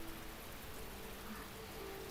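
Steady background rain from the visual novel The Fruit of Grisaia makes a soft, even hiss that stays faint and unbroken, with no voices over it.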